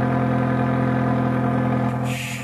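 A Honda Fit RS with a 6-speed manual and stock exhaust idles close by with a steady, deep humming drone that fades slightly at the end.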